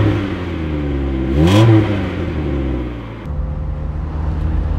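A Mk1 Mazda MX-5 with a modified aftermarket exhaust revs once, the engine note rising then falling, before settling back into a steady, close idle burble.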